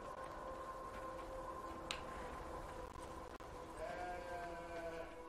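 Sheep and lambs bleat in a farm scene of the video game Beyond: Two Souls, faint overlapping bleats over a steady ambient background hum, with a louder, drawn-out bleat near the end.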